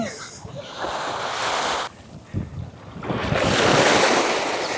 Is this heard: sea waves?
yes